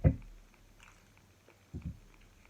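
Fresh coconut meat from a large coconut being chewed, a few close, soft crunching bites at the start and again near the end, with quiet pauses between.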